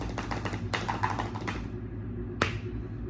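Rapid clicking of computer keys in quick bursts, close and crisp, pausing briefly before a final keystroke.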